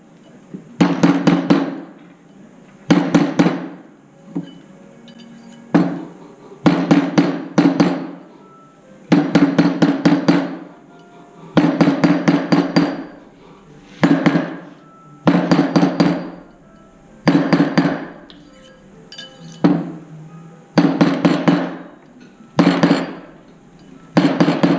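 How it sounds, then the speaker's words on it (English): A silver band ring is tapped against a steel mandrel with a hammer in repeated bursts of several quick metallic strikes separated by short pauses, close and clear, with no talking. "I'm just hitting it against the mandrel"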